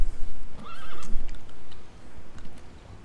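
Horse in Conan Exiles gives a short whinny that rises and falls over noisy outdoor game ambience with soft hoof knocks and thumps.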